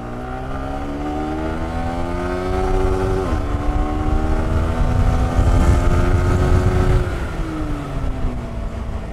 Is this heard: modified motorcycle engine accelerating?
yes